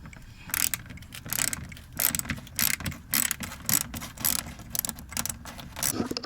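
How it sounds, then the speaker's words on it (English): Torx T15 screws being backed out from behind the fender of a C7 Corvette Stingray with a ratcheting driver: rapid, close clicking ratchet bursts repeat in short runs, with brief pauses between them and no talking. "so to take out those screws behind the fender, it's going to be a T15"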